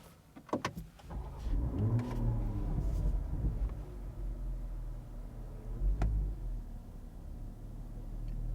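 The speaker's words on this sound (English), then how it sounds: "So let's start the car." A BMW engine with Active Sound Design disabled cranks with a few quick clicks and whirs, catches, then settles into a low, steady idle rumble with a brief blip later.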